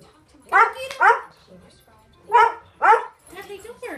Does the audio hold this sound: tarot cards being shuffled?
no